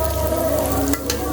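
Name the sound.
spices frying in pan on stove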